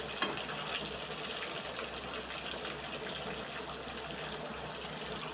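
Fish being washed under steadily running water in a kitchen, a continuous close splashing flow that holds evenly throughout with no talking.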